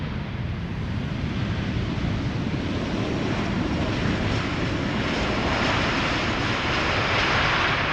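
A heavy airliner lands at Schiphol Airport with a steady, loud, broadband engine roar that holds constant and swells slightly toward the end, likely from idle reverse thrust, with no voices.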